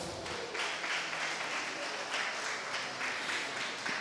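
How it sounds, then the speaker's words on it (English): A church congregation applauds visitors during a worship service, steady broadband clapping filling the room at moderate level with no talk over it. "Let's continue to give them a round of applause."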